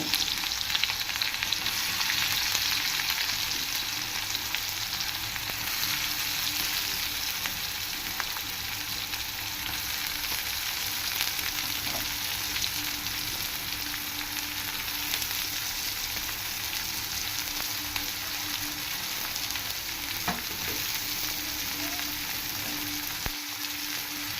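Fennel seeds and cumin fry in hot oil in a pan for a bachelor-style chicken curry, giving a steady, close sizzle that runs unbroken throughout with no talking.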